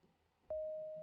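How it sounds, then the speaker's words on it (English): A single synthesizer note from Bitwig's Phase-4 phase-modulation synth starts abruptly and holds as a steady, pure sustained tone, loud and alone after a quiet lead-in. "Now I'm going to play a note."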